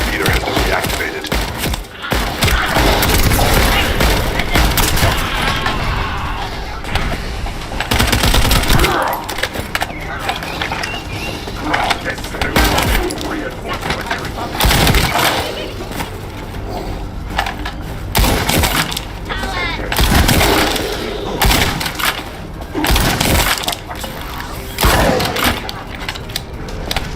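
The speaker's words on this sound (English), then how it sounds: "That stopped the gunfire." Bursts of rapid gunfire and heavy impacts in the video game The First Descendant repeat throughout, loud and dense, with occasional voices mixed in.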